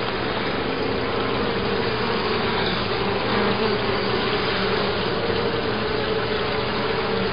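Honey bees from a swarm hive buzz in a dense, continuous drone during an open hive inspection, close to the ear and steady throughout, with no speech.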